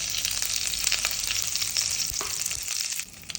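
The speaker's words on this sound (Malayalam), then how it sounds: "കുറച്ച് കറിവേപ്പില ഇടാം." Curry leaves frying in hot coconut oil with spluttering mustard seeds and dried red chillies, a loud, close, continuous sizzle with crackling pops and stirring and no voices.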